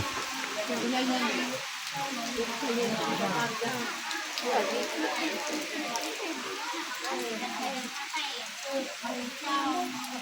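Steady rain falls on and around a rural village house where villagers are taking shelter, a constant close patter heard under people talking.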